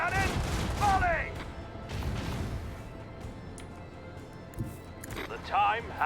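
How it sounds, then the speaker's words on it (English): A volley of macro cannon fire from the Rogue Trader video game, heard as a rolling series of heavy booms and crashes that fade into a rumbling decay, with an excited voice calling out over the start and a louder impact near the end. "Macro cannon, volley!"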